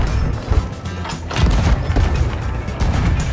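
Ship cannons fire in a Sea of Thieves naval battle, loud booming blasts and crashing impacts rolling over one another in dense, chaotic succession against a constant roar of game noise.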